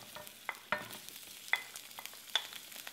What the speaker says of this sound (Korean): 목이버섯을 넣고 볶아주세요.